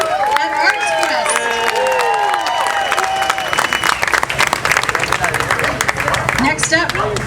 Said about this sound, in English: Please give a big round of applause to Cassie and her team at Arts Quest.